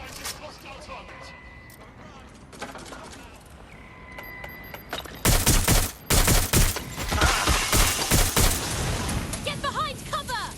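Loud bursts of rapid gunfire in the video game Watch Dogs Legion, dense volleys crackling from midway on after a quieter stretch of game sounds, with voices shouting over the shooting.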